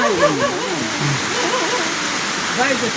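Steady heavy rain pours down with a broad, continuous wash, while someone talks over it in Thai throughout.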